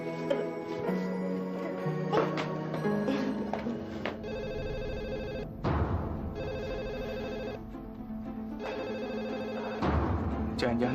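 A telephone bell rings in repeated trilling bursts separated by short pauses, loud and near, heard over soft background music.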